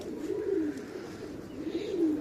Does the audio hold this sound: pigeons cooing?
yes